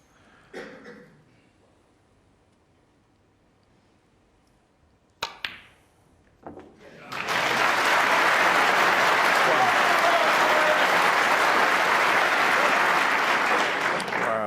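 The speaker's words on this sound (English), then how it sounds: "Terrific reception for that long pot." A snooker crowd at the Crucible, during a World Championship semi-final, breaks into loud, sustained applause for a long pot, after a quiet stretch with a few isolated knocks and thumps.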